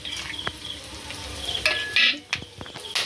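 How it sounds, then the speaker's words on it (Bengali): Whole bay leaves and whole garam masala hitting hot oil for tempering, while cooking stuffed koi fish: a soft, steady sizzle with light stirring clinks and scrapes of a pan, close and moderately quiet. "এবার ফোড়নে দিয়ে দেব গোটা তেজপাতা দিয়ে দেব গোটা গরম মশলাও দিয়ে দেব"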